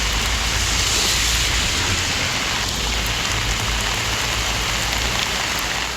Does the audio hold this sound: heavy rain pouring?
yes